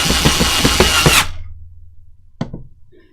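A power screwdriver drives screws into an Ikea crate in a loud, close whir for just over a second. It cuts out sharply, and one brief knock follows in near silence.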